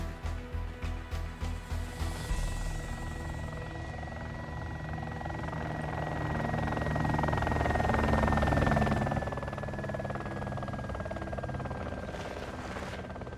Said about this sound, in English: And there's the chopper again.